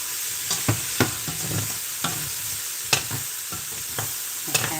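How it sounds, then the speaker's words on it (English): Potato and ham soup being stirred in a pot, with a soft bubbling simmer underneath and irregular spoon scrapes and knocks against the pot, fairly close and quiet, no talking. "Half-assed stir this"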